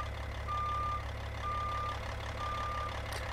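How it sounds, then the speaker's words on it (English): Reversing beeps from a truck in American Truck Simulator, hauling utility poles with a Caterpillar rig: three steady evenly spaced beeps over a constant low engine rumble, with no talk. "Hope everyone likes the sound of the reversing beep, because it's going to be doing it for a while."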